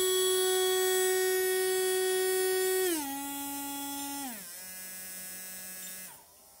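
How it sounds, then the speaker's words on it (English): A Latrax 370 electric motor, a 7575X or 7575R, spins on a bench test with a steady high-pitched whine that steps down in pitch twice as the speed drops, then cuts off near the end. "give it a little test, see what kind of RPM this motor is turning"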